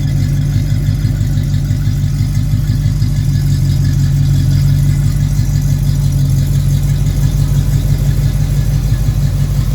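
A 1957 GMC 347/394 cubic inch engine idles steadily and loudly at its first start-up, with a deep even rumble and no talk over it.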